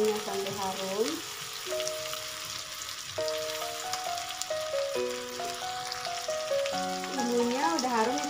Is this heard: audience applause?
no